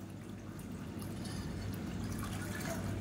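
Hot water is poured steadily into ground horse gram for soup, producing a continuous soft liquid rush over a low, constant background hum, with no talking.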